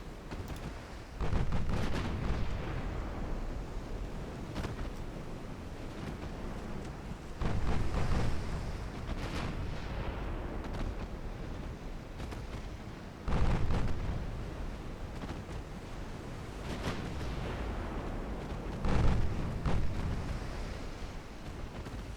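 Torpedo explosions in the naval game Lone Wolf: several deep, rumbling blasts spaced a few seconds apart, each swelling suddenly then decaying over a steady low wash of sea and engine noise.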